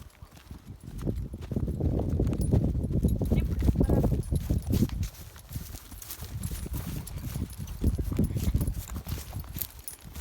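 Freshly shod horse hooves clip-clopping in a steady walking rhythm, loud and close, running almost continuously throughout.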